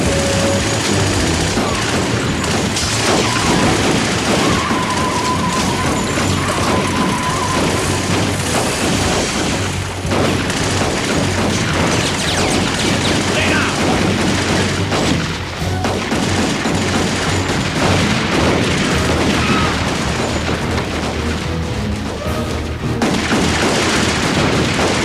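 A volley of gunfire in a period crime drama scene, dense overlapping shots and booms rolling on without pause, loud and sustained under a busy mix.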